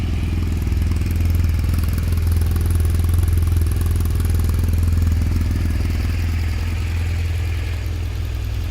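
A 2016 BMW R1200RS motorcycle engine idles steadily with a deep, even rumble and light mechanical clatter, loud and close, no voices.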